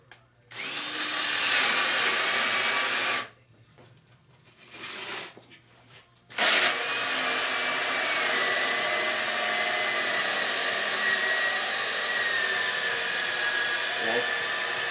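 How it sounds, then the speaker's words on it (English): A cheap battery drill bores holes in a control panel, with a short whirring burst, a pause with small handling noises, then a long steady high-pitched drilling whine that runs nearly continuous and close. "So we're going to drill our first one here."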